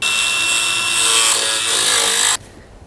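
An angle grinder cuts through stripped bolts under a truck, a loud continuous high-pitched abrasive whine close by for over two seconds before it abruptly stops, leaving a quiet background.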